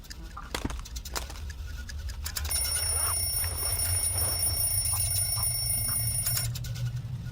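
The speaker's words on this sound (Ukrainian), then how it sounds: "беремо будильник та кидаємо його під ноги, щоб він побіг за ним" An alarm clock rings in the video game Hello Neighbor 2, a steady, shrill electronic tone that starts partway in and holds for several seconds over low background hum and scattered game noises.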